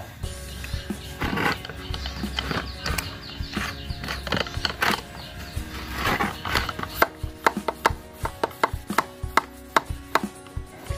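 A closed container holding a mixture for spraying chilli plants is shaken hard, giving a run of sharp rattling knocks and sloshing bursts that quicken toward the end, close and loud.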